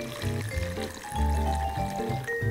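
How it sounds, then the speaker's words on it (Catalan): Water pours into a container to mix Bordeaux mixture, coming through as close, gurgling bursts of filling liquid in uneven surges. "Ara afegirem l'aigua."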